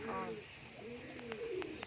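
Racing pigeons coo in soft, rolling calls at close range, with a few sharp clicks and a person talking nearby.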